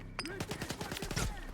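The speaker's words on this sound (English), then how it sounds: "Grenade!" Rapid, rhythmic gunfire in the STALKER 2 game, a burst of about nine close, loud shots with a booming thump at the start, fitting a grenade blast.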